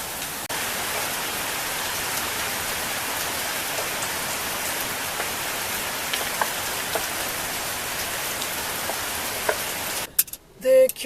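Heavy overnight rain pours steadily, a dense unbroken hiss of drops hammering surfaces nearby, loud and constant for nearly the whole stretch before ending in a few brief knocks and rustles.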